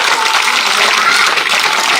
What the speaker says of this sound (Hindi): इस बेटे के लिए जोरदार तालियों से अभिनंदन और स्वागत